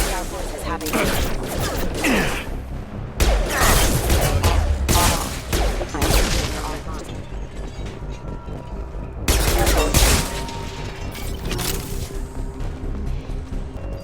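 Rapid bursts of gunfire from the video game Mass Effect 2, with automatic fire and heavy shots crashing in repeated loud volleys separated by brief lulls, close and intense.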